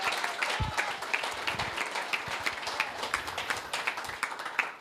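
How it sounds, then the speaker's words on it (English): Small group at a team meeting applauding a colleague, moderately close clapping with distinct individual claps, fairly faint and sustained throughout. "huge round of applause for her"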